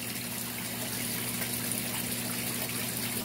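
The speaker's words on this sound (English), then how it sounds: "Then I'm going to go ahead and pour this on into my vase." Dissolved gel water is poured into a flower vase as a steady, even gush of liquid that runs continuously without pause at moderate loudness.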